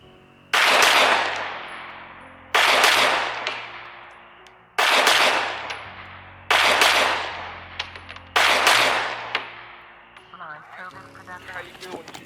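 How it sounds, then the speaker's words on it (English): A Glock pistol at a shooting range fires five loud, close reports spaced about two seconds apart, each with a long echoing decay, then fades into faint rustling at the end. "So I just got finished shooting doubles."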